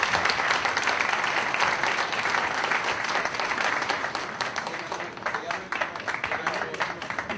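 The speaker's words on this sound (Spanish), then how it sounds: "Vamos a darle un fuerte aplauso" An audience at a Spanish-language lecture gives a guest contributor a loud, sustained round of applause: dense, steady clapping from many hands that fills the full length and tapers slightly toward the end.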